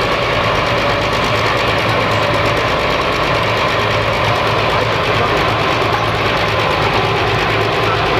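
A loud, steady engine rumble from a 10,000 lb pro farm pulling tractor, with a rhythmic knocking throb, close and continuous throughout.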